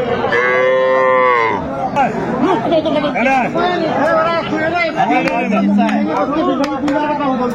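A Jersey heifer calf at a busy cattle market gives a loud, drawn-out moo close by. Bargaining voices and crowd chatter continue around it.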